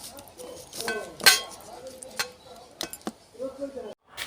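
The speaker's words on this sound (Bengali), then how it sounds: "এবার আমি সর্ষে আর পোস্ত বাটা বাটির মধ্যে ভালো করে মাখিয়ে নিচ্ছি।" A spoon clinks and scrapes against a bowl while mustard and poppy seed paste is mixed with oil for a steamed egg dish. The taps are sharp and irregular, with a voice speaking between them.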